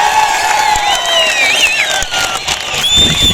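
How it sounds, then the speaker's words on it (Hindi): A large outdoor crowd at a political rally in Doda breaks into loud applause and cheering, with shouts and whistles rising over sustained clapping for about three seconds. "मिराज मलिक के लिए जोरदार ताली बजाएं।"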